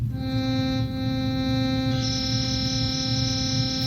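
An electric guitar runs through a GuitArduino controller that adds an oscillator tone. A sustained, buzzy, harmonically rich drone plays throughout, and a bright upper tone jumps higher midway.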